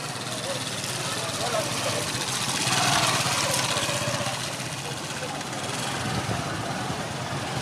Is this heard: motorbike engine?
yes